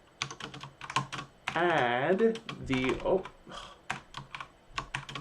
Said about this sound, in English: typing is hard, man.